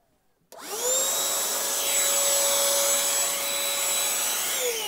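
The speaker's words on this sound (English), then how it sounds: "Listen to the Black & Decker now." A Black & Decker Pivot Vac hand vacuum switches on and runs with a rising motor whine that settles into a steady high-pitched hum, close and alone.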